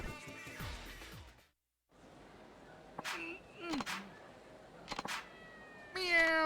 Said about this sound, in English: Meow, it's a kitty!